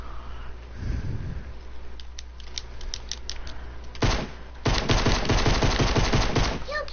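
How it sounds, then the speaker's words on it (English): Rapid automatic gunfire from the Fortnite video game comes in bursts, sparse shots early and then a dense sustained volley, with a voice speaking briefly near the start. "What are you shooting at?"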